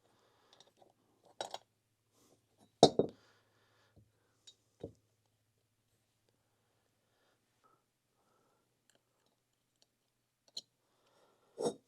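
Small metal power valve parts for a 2006 Yamaha YZ250 two-stroke are set into place, giving a few sparse, sharp clicks and taps separated by long quiet gaps, close and fairly soft.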